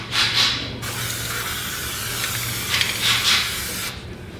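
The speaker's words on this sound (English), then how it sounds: "new feature on the can that allows you to spray at any angle" Short bursts of aerosol spray from a can of MPI white contrast paint fitted with a 360° any-angle nozzle, loud hissing at the start and again near the end with a softer steady hiss between.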